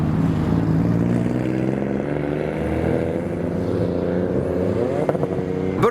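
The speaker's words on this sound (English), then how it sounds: "We got the JZX90 Chaser leaving now." A modified Toyota JZX90 Chaser pulls away at a night car meet, its engine a steady, loud, continuous rumble with no voices, then a short burst of revving near the end.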